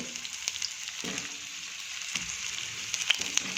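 Onions sizzling and frying in hot oil in a pan for a Kathiyawadi-style whole onion curry, a steady bright hiss with a few soft stirring knocks and no talk.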